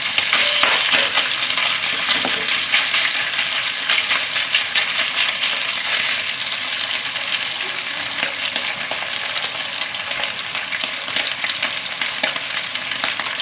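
Beef pieces coated in beaten egg and cornstarch frying and sizzling in a hot pan for beef and broccoli stir-fry, a loud continuous crackle with stirring and scraping clinks, no talking.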